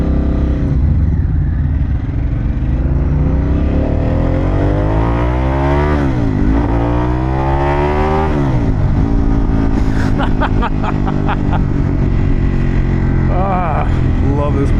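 Harley-Davidson Pan America adventure motorcycle with an Akrapovic exhaust, ridden on the road: a loud, steady engine drone that rises and falls through gear changes, with rev sweeps midway and clattering wind noise later.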